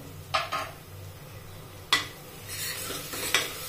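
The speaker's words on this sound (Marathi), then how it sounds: "ती पण छान परतून घ्यायची अशी।" Ginger-garlic paste is sautéed in a pan. A spoon stirs and scrapes against the metal in a few sharp, close knocks over a low, steady sizzle, with no talking.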